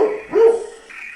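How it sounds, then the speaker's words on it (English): A dog lets out two brief, tonal, yelping barks that sound thin, as if coming through a microphone, with no voices over them. "Dog. I heard dog."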